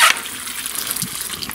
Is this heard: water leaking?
yes